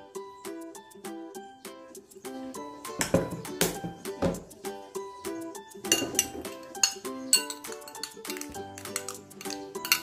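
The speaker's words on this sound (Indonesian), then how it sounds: "Setelah kita aduk seperti ini sudah jadi" A spoon clinks and scrapes against a bowl while stirring a face mask of baby oil and rose water, with quick repeated metallic taps and rattles throughout and no talking.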